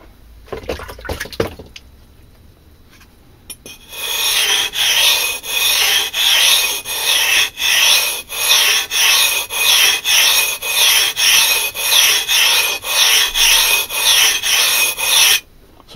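A steel blade is rubbed back and forth on a budget sharpening stone for bushcraft, giving loud, rhythmic rasping strokes in a steady repeated pattern with short gaps between them and no talk.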